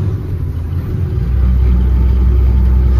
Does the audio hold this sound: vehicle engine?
yes